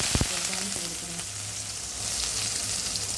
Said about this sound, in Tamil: இப்போ கடுகு வந்து நல்லா பொரிஞ்சிருச்சு